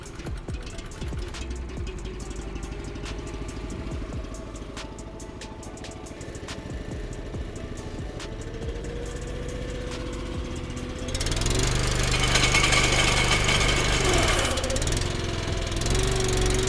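Power pack engine driving an excavator flail attachment, a steady rattling mechanical drone that swells louder and rougher partway through, with a few faint voices nearby.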